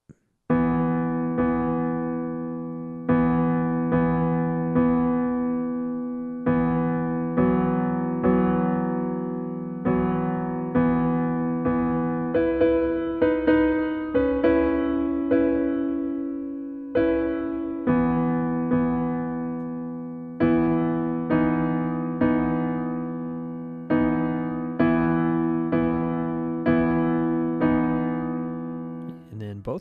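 A piano plays the single-line right-hand melody of a song, notes struck in steady phrases with short pauses between, clear and close with no talking.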